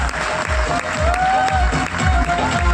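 A seminar audience in Punjab claps loudly and unevenly for a health talk, with some cheering mixed in and a low thumping underneath.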